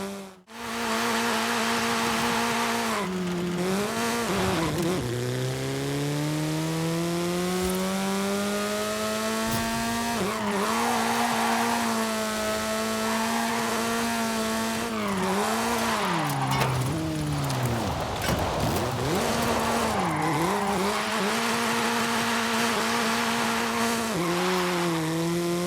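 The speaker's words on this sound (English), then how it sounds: "trying to drift the new drift car that I've built for you guys right here" Continuous loud engine roar of a custom-built beginner drift car in Forza Horizon 5, revs rising and falling through long slides with tire squeal, sustained throughout with no talking.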